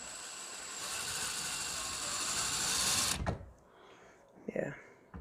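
Drill boring a hole through a Ford Mustang S550 plastic bumper, a loud steady whir for about three seconds that stops abruptly, followed by brief handling clatter.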